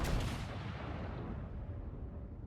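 In the naval video game World of Warships, a ship's guns fire as a single loud, booming blast that decays into a rumbling tail over a couple of seconds.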